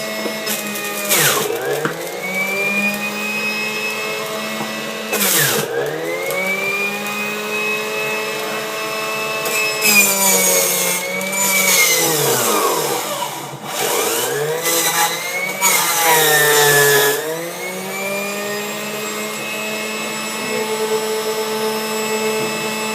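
An electric juicer grinds carrots and beets, its motor whining loudly and steadily while the pitch sags and recovers each time a vegetable is pushed into the feed chute, over about twenty seconds without talk.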